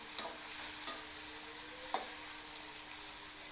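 Chopped onion, cumin seeds and green chilli saute in hot oil for Maggi, a soft, even sizzle broken by a few light spatula taps and stirs, with no one speaking.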